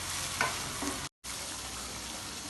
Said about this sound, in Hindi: मैं तेज़ आंच पर इसका पानी खुश्क करके दोबारा मिलता हूँ।